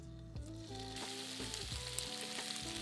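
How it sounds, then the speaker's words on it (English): Steady loud sizzling of pork frying in a hot pan over medium-high heat, a continuous crackling hiss with a few clinks and stirring scrapes, close by, with no talking. "Carefully add the pork to the frying pan."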